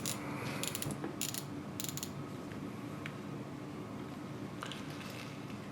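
A Revo Toro fishing reel's drag clicks as the spool is turned during a teardown and gear conversion, giving several quick ratcheting bursts of close, crisp clicks with short pauses between them.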